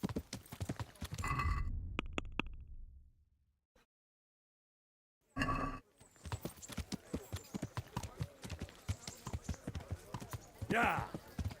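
Horse hooves in Kingdom Come Deliverance, rhythmic clip-clop footfalls that come and go around a silent gap, with people talking over them.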